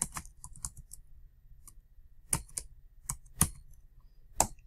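Computer keyboard typing, heard alone as a quick burst of clicks followed by a few sharper, separated keystrokes, close and fairly quiet.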